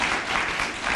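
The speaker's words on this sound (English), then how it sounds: "A round of applause" A brief burst of steady applause fills a hall at a Scout and Girl Scout award ceremony, many hands clapping together loudly and evenly for about a second.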